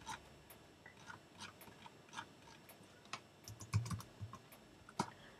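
Faint, quiet typing on a computer keyboard, a scattered series of soft key clicks in uneven bursts with no talking.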